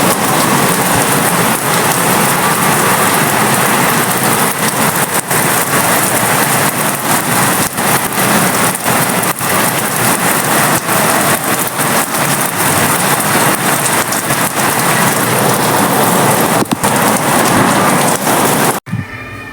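Heavy rain pours steadily at a Rath Yatra festival, a loud dense roar of downpour on surfaces with low thunder rumbles mixed in, continuing almost unbroken before cutting off at the end.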